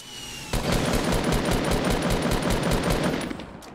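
Rapid automatic gunfire from a weapon in Fortnite Battle Royale, a dense loud burst of evenly spaced shots lasting about three seconds with no talk over it.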